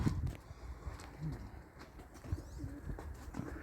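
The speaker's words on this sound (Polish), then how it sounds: "Ale panowie, chodzą jeszcze gołębie." Racing pigeons at a loft in Braniewo during a practice flight: soft cooing and occasional wing flaps, faint and outdoors against a low rumble of background noise.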